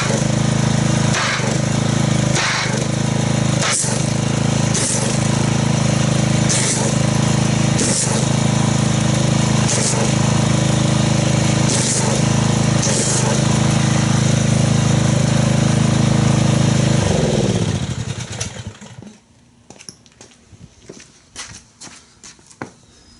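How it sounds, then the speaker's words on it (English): A pressure washer agitating foaming car wash concentrate, a loud steady engine-driven drone with regular rhythmic spray bursts, running for most of the clip before cutting off into quiet. "So let's get our pressure washer and see how much foamage we can get"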